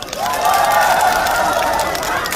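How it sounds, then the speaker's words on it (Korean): Outdoor crowd at a night-market concert at Boryeong Central Market, with scattered clapping under loud, sustained shouting and cheering. "안전하게 관람하신 분들 더큰 박수!"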